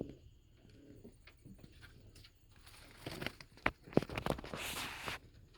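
Pigeons in a loft give soft, low cooing calls close by, with light patter and scuffling of feet and a few sharper rustling bursts toward the end.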